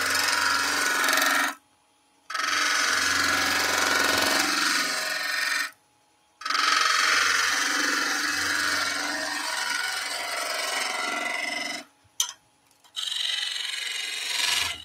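Skew chisel cutting a wooden staircase spindle on a lathe, a loud scraping, rasping hiss in long continuous passes broken by short pauses, close up with no talk.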